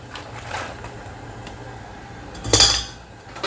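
Vegetables tip into a cooking pot with rice wine and seasoning, a clattering metallic knock and rustle near the end over a quiet kitchen hum and faint utensil taps.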